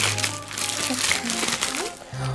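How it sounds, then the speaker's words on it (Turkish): Plastic wrapping on a children's toy magazine package crinkles and rustles continuously as it is torn open, with a person talking over the handling. "Evet, hızlıca açalım dergimizi"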